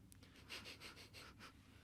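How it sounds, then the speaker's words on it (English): Someone takes a few short, close sniffs at a wine cork, quick nasal breaths in a quiet room. "You got to give it a wee sniff."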